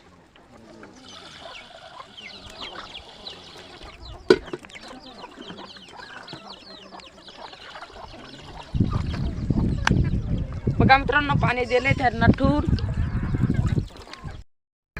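A small backyard flock of chickens clucks near freshly set-out water, the calls growing louder and busier in the second half while someone talks over them.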